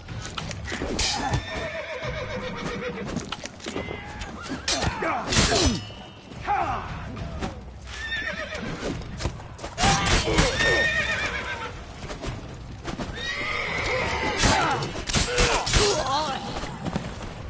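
Horses whinny and neigh over galloping hooves and a dense, busy soundtrack, with voices speaking through parts of it.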